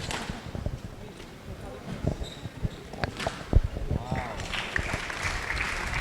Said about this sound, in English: Crowd going mad.